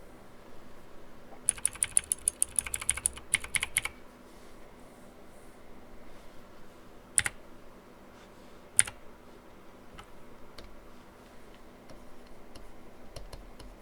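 A quick flurry of computer keyboard key presses, then a few isolated clicks spaced apart over a quiet background hum.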